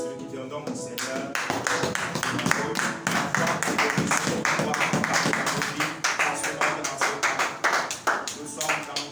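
A church congregation claps in rhythmic acclamation during a worship service, sharp, even beats repeating quickly and loudly for several seconds, with voices singing or calling underneath.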